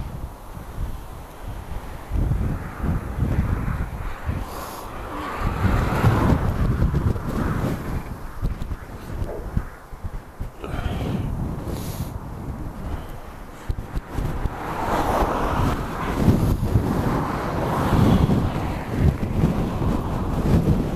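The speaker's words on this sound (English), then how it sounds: "Headwind," A strong headwind buffets the microphone while cycling uphill over Shap, a loud, rough, gusting rumble that surges and eases throughout.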